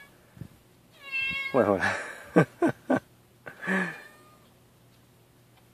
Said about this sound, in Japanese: ぴゃぴゃ鳴いてるね、あの、相方のね、ミニゴマちゃんの黒猫のゴマちゃんです